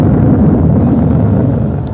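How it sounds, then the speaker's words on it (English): Titan Centaur rocket lifting off from Cape Canaveral with a Voyager spacecraft, a loud, heavy, continuous low rumbling roar that stays steady and alone before easing slightly at the end. "2 unmanned spacecraft, Voyager 1 and 2, lifted off from Cape Canaveral atop Titan Centaur rockets"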